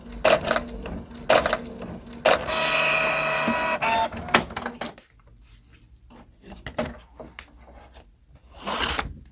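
Photo printer feeding and printing on matte photo paper, with clicks and mechanical whirs, a sustained motorized grinding stretch, then quieter intermittent ticking and a final whir.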